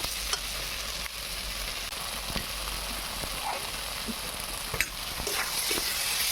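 Spice paste frying with pointed gourd in a pan: a dense, steady sizzle close by, with occasional faint scrapes of stirring, no speech.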